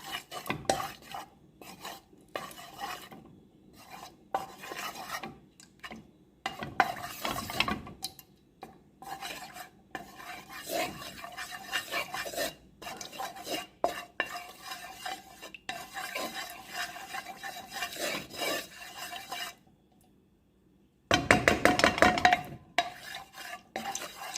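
Vegetable ghee being stirred as it melts in a pan, with repeated scraping and clinking of a spoon against metal in irregular bursts over a low sizzle and a short quiet pause near the end.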